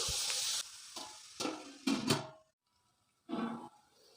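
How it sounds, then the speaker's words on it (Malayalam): Onions and spices sauté in a pan for Kerala-style duck curry, bursts of hissing sizzle and stirring scrapes separated by a brief silence. "ഇതെല്ലാം ചേർത്തിട്ട് നന്നായി വഴറ്റിയെടുത്തേക്കാം"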